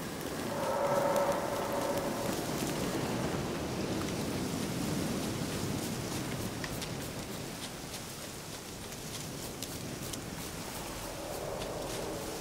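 Steady rain in The Witcher 3 game world, a continuous dense hiss of falling drops with a faint low rumble, heard alone throughout.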